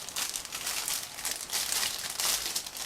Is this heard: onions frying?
no